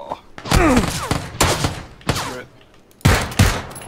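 Gunshots in the battle royale game PUBG: loud, close bursts of rapid fire in three or four clusters with short gaps, mixed with thuds and a voice talking between them.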